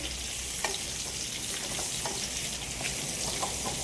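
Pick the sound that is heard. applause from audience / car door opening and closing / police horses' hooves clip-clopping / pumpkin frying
pumpkin frying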